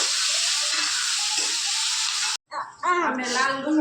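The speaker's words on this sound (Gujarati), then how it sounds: "ડુંગળી લાલ થઈ જાય ત્યાં સુધી આપણે તેલમાં ચડવા દેવાની છે અને આવી રીતના વઘાર કરવાનો છે" Onion frying in oil for a Gujarati tempering, a steady close hiss and sizzle running for over two seconds before cutting out, after which voices talk over a softer background.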